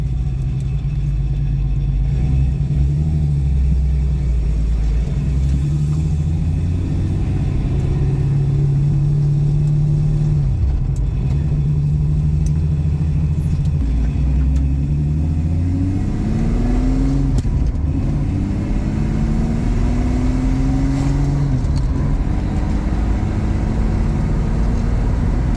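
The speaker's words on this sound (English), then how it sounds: "the idle's way low when it's cold" A 1965 Ford Mustang with its stock Ford 200 inline-six runs at a low, uneven cold idle, a steady close rumble with a couple of brief revs rising and falling, no voices over it.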